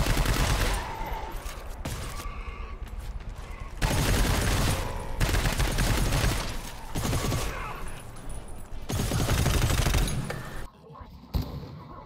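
Heavy gunfire in the co-op shooter GTFO rips through sustained automatic bursts against enemies, loud and close, with short pauses between volleys and voices in the background.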